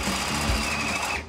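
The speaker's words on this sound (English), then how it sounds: "Drill a few holes." A power drill bores holes through the floor pan of a Jeep, a steady high-pitched whine running continuously and close, fading out at the very end.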